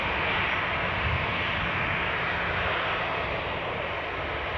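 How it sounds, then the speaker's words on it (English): Airliner on the returning Bristol flight at Newcastle airport, a steady broadband engine roar holding loud and constant throughout with no talk over it. "this is the returning Bristol flight"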